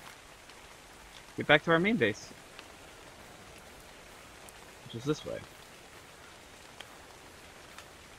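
Steady rain hiss in the video game ARK Survival Evolved, a soft, even wash that runs throughout while someone briefly talks over it twice.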